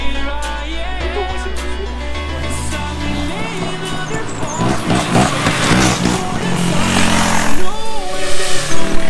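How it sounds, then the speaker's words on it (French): Motorcycles ride past, their engines roaring loud and close with rising revs under a dense mix of wind noise and other sound, growing louder toward the end. "J'avais dit, ils allaient essayer de suivre les motos."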